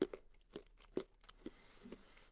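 A chewable vitamin C tablet is crunched up close, with a string of quiet, sharp bites and grinding crunches spaced through the moment and no talking.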